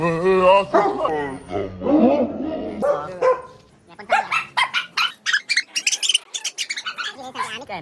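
Talk at first, then a rapid run of sharp barks from a dog or two, close and fairly loud, with bird chirps mixed in.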